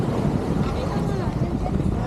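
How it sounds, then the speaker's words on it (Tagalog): Strong wind buffets the microphone aboard a small boat off Subic, Zambales, a steady loud rush of gusts and low rumble with water noise beneath, continuous for the whole moment. "Lakas ng hangin."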